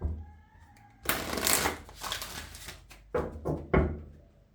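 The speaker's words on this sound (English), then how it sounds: "5 shuffles for you" Oracle cards from a Secret Language of Light deck are shuffled in several crisp riffling bursts, close up and fairly quiet, with soft handling noises between them.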